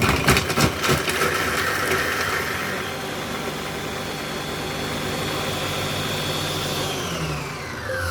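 A Lidl Monsieur Cuisine Connect food processor blends ingredients for Basque chicken at speed 7. A few sharp clatters are followed by a steady, close whirring drone that runs for several seconds before easing off.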